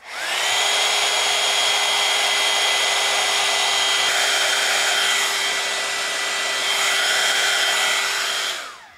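A hair dryer blowing steadily and loudly on wet craft paint for a Christmas craft project, running for about eight seconds with a slight dip in pitch midway before switching off.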